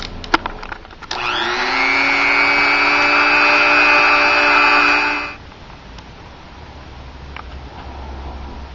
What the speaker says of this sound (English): clean off some of this protective coating using our Dremel